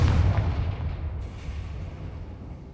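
A Confringo spell explosion in Hogwarts Legacy: a heavy booming blast at the start that rolls into a low rumbling decay and fades over the next couple of seconds, with no voices.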